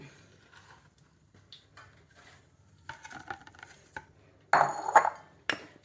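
Knife chopping okra (ladies finger) into 1.5-inch pieces for a fry, giving a few sharp, close clicks and taps against a board, louder bursts near the end, with quiet gaps between cuts.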